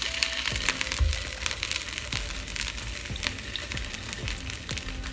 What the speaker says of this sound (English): you're gonna see me take them out and fry these sausages